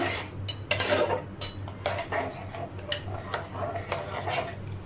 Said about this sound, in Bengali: এইবার কিন্তু ভালো করে নাড়াতে হবে, নাহলে দইটা ফেটে যাবে